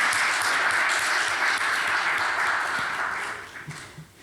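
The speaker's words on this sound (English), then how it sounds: "maybe we can clap and they'll hear us." Audience applause from a crowd at a talk honoring cancer heroes, a dense, steady wash of many hands clapping together at fairly close range, holding strong before tapering off toward the end.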